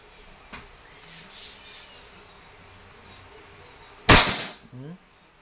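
A single sharp crack from an Umarex Glock 17 Gen 5 pellet airgun, close and loud, is followed by a quick rattle amid quiet room noise.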